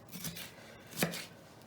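A kitchen knife chops through calzone filling on a board, giving two crisp cuts, a lighter one early and a sharper, louder one about a second later, each with a short clack, heard alone.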